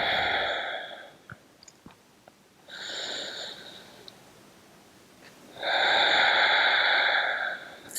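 Slow, deep breaths during a yoga session, in child's pose and tabletop: three long, broad airy exhales, the last loudest and closest, separated by quieter pauses with a few soft clicks, no talking.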